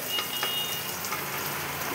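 Onions fry in a pan for a breakfast dish, giving a steady, close crackling sizzle with no gaps and no talking.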